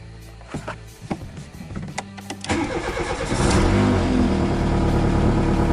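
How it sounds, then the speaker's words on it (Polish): A Volkswagen Polo Classic 1.4 engine cranks in several short bursts, catches and settles into a steady, loud idle close by, with no talking. "odpalamy go na 15 minut i patrzymy co się dzieje"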